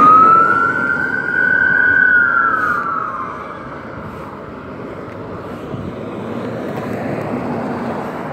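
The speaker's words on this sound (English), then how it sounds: "Oh, it's an ambulance." Ambulance siren passing on a street, a loud wailing tone sweeping up and down over traffic rumble, then fading into distant road noise.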